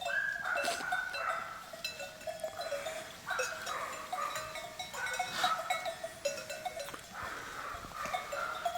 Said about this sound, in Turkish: Arkadaşlar koyunlar serince 10 numara otluyor.